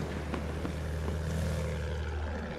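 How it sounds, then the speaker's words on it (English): A fighter plane in the Battlefield 1 video game on the Monte Grappa map, its propeller engine droning steadily overhead with a low hum and faint background battle noise, no talk. "Another plane coming, another fighter."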